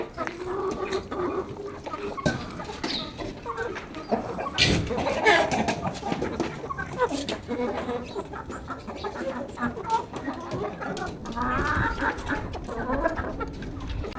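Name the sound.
free range chickens clucking at feeders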